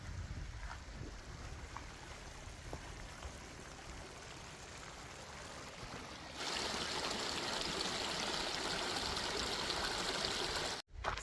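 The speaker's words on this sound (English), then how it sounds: "Speaking of creeks, I found one here. Let's check it out." A mountain creek in the Sierra Nevada near Mount Baldy rushes in a steady broadband wash, growing louder partway through as the creek is approached, with some wind noise on the microphone.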